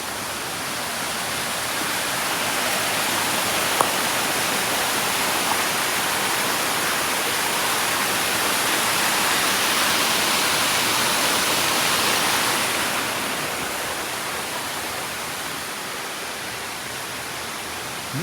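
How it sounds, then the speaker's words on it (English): Rushing water pouring steadily at a turning water wheel, a loud continuous broadband roar that swells slightly midway and then eases, with no voices. "water wheel."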